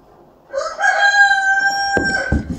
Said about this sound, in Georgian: ეგ უფუნქციო მამალია მარტო ყვირის იმდენად